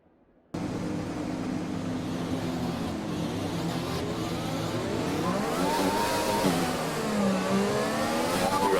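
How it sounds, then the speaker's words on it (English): A Formula 1 car engine in the F1 2020 video game at the British Grand Prix cuts in abruptly after a brief quiet, then revs and climbs through the gears with rising and falling pitch, close and steady, no talk. "Let's get the car up to temperature on this lap."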